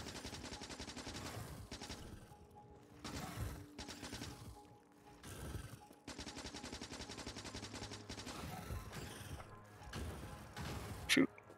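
Rapid gunfire rattles in repeated bursts with short gaps while shooting at a spitter in the video game Factorio, close and mechanical-sounding, ending in a sharper crack.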